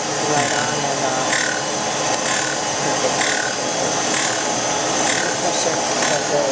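An Oliver 600 drill grinder, ex-Navy, grinds a drill bit with a loud, steady abrasive rasp over a constant motor hum, with rhythmic repeated swells of the grinding contact and no pause throughout.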